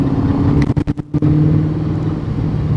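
A Spyker C8 Spyder sports car drives under loud, steady engine drone, broken around the middle by several quick dips and cuts as gears change before the engine pulls on again, heard close from inside the car.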